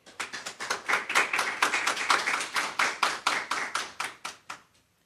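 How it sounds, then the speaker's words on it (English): Audience applause for lecturer Dr. Zulema Reynoso, a lively burst of many hands clapping in quick irregular taps, fairly close and steady for about four seconds before trailing off to silence. "Please give a round of applause for Dr."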